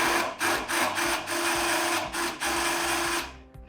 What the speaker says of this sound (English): So this is a reamer, circular in fashion.